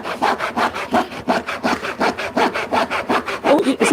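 A hand saw cuts through wood in steady, rhythmic back-and-forth strokes, loud and close, roughly three strokes per second with a rasping texture and no talk over it.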